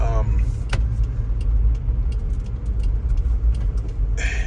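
A 1995 Geo Tracker engine idling with a deep, steady low rumble up close, with brief sharp clicks and rattles over it and a short burst of a voice at the start.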